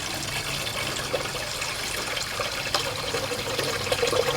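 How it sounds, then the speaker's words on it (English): Water pours steadily into a plant pot as it begins to fill, a continuous close splashing and trickling wash with small bubbling bursts and no voices. "As you can see, the pot is really just starting to fill up."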